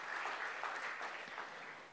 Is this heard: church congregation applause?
yes